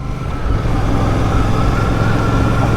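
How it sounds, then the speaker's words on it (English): A Royal Enfield Classic 650 motorcycle under way, with a steady, loud engine rumble and road and wind noise that keeps up throughout while the bike is ridden along. "on this beautiful Royal Enfield Classic 650."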